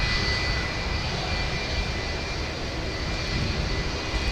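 A FedEx Boeing 757-200 freighter with Rolls-Royce RB211 engines runs up at Minneapolis–St. Paul airport, a steady, loud jet roar with a low rumble and a faint whine, unbroken throughout and with no talk.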